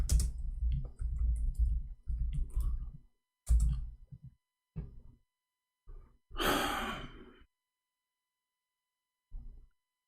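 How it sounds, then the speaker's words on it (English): Bursts of keyboard typing on a computer come in short clustered runs of clicks separated by pauses, with a loud audible sigh in the middle. "You always type and you find"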